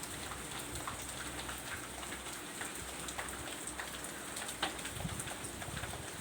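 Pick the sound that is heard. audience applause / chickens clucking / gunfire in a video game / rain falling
rain falling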